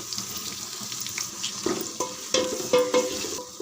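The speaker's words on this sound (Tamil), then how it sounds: "நல்லா ஒரு 3 நிமிஷம் வதங்கட்டும்" Four large tomatoes sautéing in a pan, with a steady sizzle and soft scraping stirs, a few sharper clinks of the spoon against the pan toward the end; nearby and moderately loud, no voices.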